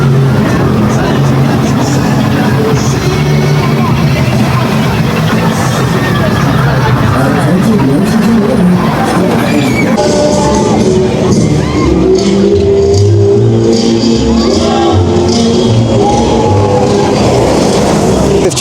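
Stealth, a 20-year-old launched roller coaster at Thorpe Park, sounds as a loud sustained roar of wind and rushing track noise with rumbling wheels, and crowd chatter and talk mixed in throughout.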